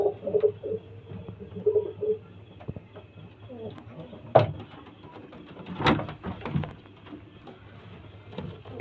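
Pigeons coo softly at a bird sale in Barasat, low repeated calls near and faint, with scattered clatter and a couple of sharper knocks, no talk.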